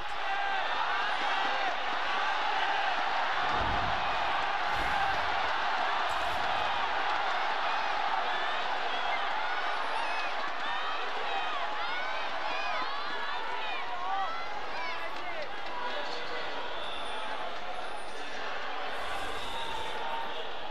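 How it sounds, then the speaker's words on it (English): A huge stadium crowd at the LPL finals in Nanjing roars in unison, a dense sustained wall of cheering and whooping with thumping beats, while a commentator's voice runs over it. "it is absolutely deafening when they all roar in unison in support of the teams today"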